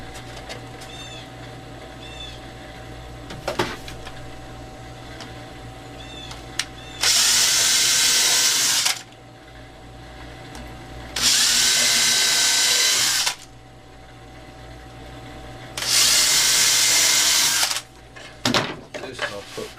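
A power drill bores pilot holes in wood for a bird feeder, three loud whirring bursts of about two seconds each with quiet pauses and small handling knocks between them.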